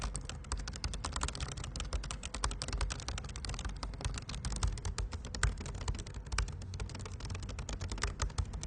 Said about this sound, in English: it happens to have the effect of slightly dampening the noise and feel from the keyboard